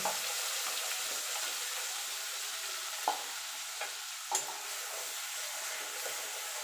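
Ground mustard paste stirred into a frying pan for potol posto, a soft steady sizzle with a few scraping clinks of the spatula against the pan, no voices.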